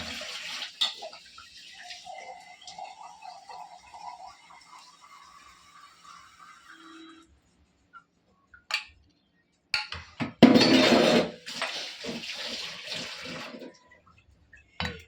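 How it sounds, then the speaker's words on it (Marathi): Water splashes and pours in short bursts, a gurgling stream running briefly into a container of coriander mixture for buttermilk between quieter pauses. "थोडंसं आपण त्याच्यामध्ये पाणी टाकणार आहोत"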